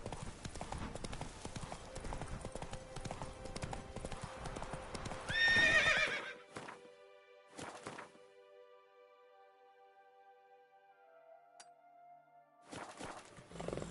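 Galloping horse hooves in The Witcher 3, a steady rhythmic clip-clop for about six seconds ending in a whinny, then sparse hoof sounds and a faint tone before the galloping briefly returns.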